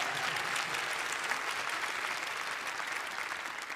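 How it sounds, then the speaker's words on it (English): Steady audience applause for a panel, a dense, even wash of many hands clapping at moderate distance, sustained throughout and slowly easing off toward the end. "Can you give this panel a huge round of applause?"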